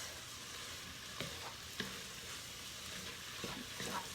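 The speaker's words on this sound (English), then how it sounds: "I'm just going to saute these veggies in these spices" Vegetables sautéing in spices in a single pot for keto cabbage roll soup, giving a soft, faint steady sizzle with a few light stirring taps.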